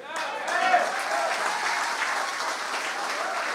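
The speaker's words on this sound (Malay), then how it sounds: "You all clapping so loud" An audience claps loudly at a political rally in Pandan, dense sustained applause filling the whole stretch with crowd voices mixed in.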